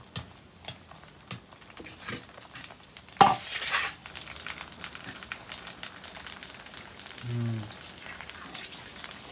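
Light crackling and sizzling of pani puri puris frying in oil, with scattered clicks and a louder clattering burst partway through; a brief low hum appears near the end.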